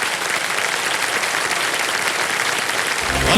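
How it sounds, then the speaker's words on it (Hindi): A studio audience on a quiz show breaks into loud, sustained applause, an unbroken roar of clapping hands with a low thump just before it ends. "तालियां बज जाएं इनके लिए।"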